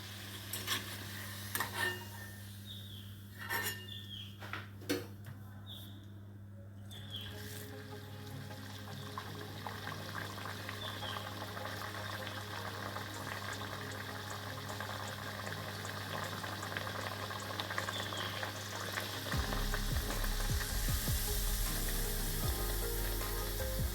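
Moong dal masala puris deep-frying in hot oil, a steady bubbling sizzle that builds and grows louder toward the end, with a few sharp clinks and scrapes early on and no one talking.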